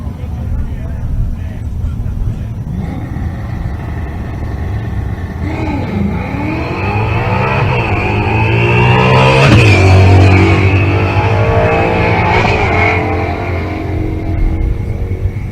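A Fox Mustang race car launches down a drag strip at an outdoor race meet, a loud engine roar that swells and climbs in pitch as it pulls away, heard over constant crowd and track noise, with an announcer talking on the public address.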